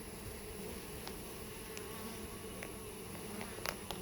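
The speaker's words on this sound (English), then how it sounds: "6 bumblebees." Soft continuous buzzing of six bumblebees, fairly faint and steady, with a few brief clicks and taps scattered through.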